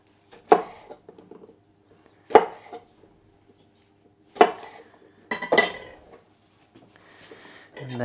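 Whole chilies cut into coarse pieces with a knife, four separate sharp knocks of the blade against a board with quiet gaps between them, then rustling at the end.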